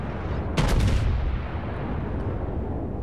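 A warship's main guns fire in a naval battle in World of Warships, a deep booming blast that is followed by a long rumbling roll fading across the whole span.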